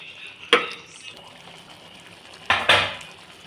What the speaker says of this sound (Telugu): ఇలా 1-2 సార్లు మధ్యలో కలుపుకోవాలండి.